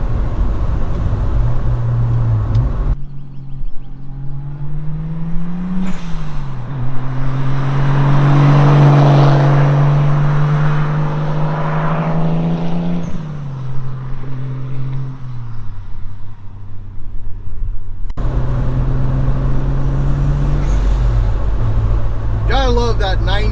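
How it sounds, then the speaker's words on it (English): A turbo Toyota Supra with a 5-speed and a 90s JDM blow-off valve revs loudly up and down, the engine note climbing and falling before a brief airy whoosh as the revs drop. "I love that 90s JDM blow-off valve"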